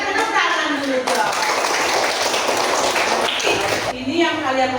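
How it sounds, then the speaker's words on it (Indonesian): Class of second-grade schoolchildren clapping together, a dense, loud burst of applause lasting several seconds before fading, with voices mixed in. "Tepuk tangan dulu dong."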